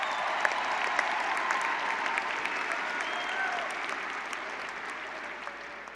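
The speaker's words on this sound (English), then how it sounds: "Let's give them a round of applause." A large audience at a 2018 high school graduation ceremony gives a sustained round of applause for the graduates, a dense, even wash of clapping heard from some distance across a big venue.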